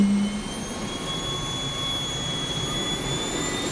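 An engine on the Shell Vito oil platform spools up with a loud, steady jet-like roar and high whining tones that climb slowly. It is heard alone and nearby.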